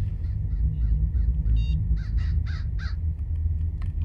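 A crow caws repeatedly in the Hello Neighbor video game, a series of rasping calls in an irregular rhythm over a steady low game rumble, moderately loud and without talk.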